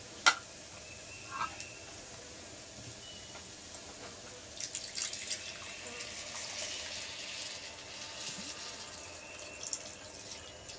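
Water runs into a cooking pot for Cajun cod and rice, topping up canned ingredients with a soft, steady trickle and a few faint splashes and drips, fairly quiet and close.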